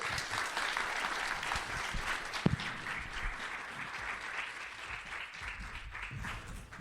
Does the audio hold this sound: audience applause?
yes